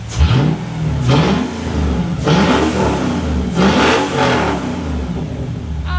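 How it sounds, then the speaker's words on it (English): Mercedes CLK55 AMG with the M113 V8 revved in a garage, four sharp throttle blips that rise and fall back to a rumbling idle, close and loud, with no talking. "let's go rev this bad girl in the garage"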